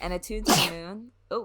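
A single sharp sneeze bursts out in the middle of a podcast conversation, with a person talking just before and briefly after it.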